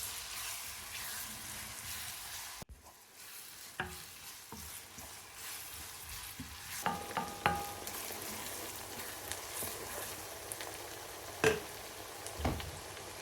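Two chopped onions sizzle steadily in a hot pan for a curry, a continuous frying hiss broken by occasional clicks and scrapes of stirring.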